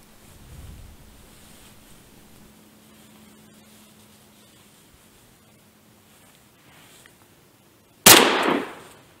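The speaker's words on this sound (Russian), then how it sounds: "Тут ничего не оставалось, как попробовать произвести выстрел." After several seconds of quiet outdoor stillness while hunting wood pigeon, a single sharp, loud gunshot cracks near the end, followed by a brief echoing tail.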